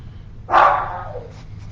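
A pet dog lets out a single sharp bark indoors, close and loud, startling someone during a painting session, then quiet room tone.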